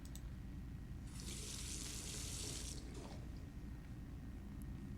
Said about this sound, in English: All that remains is to rinse the plate.